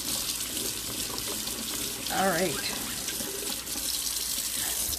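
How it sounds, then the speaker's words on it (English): Tap water runs into a sink while an ink pad is being rinsed during refurbishing, a steady close splashing hiss with a brief burble midway and a short spoken remark. "The water's getting hot. I'm just going to turn it down so that it's cool water instead of hot water."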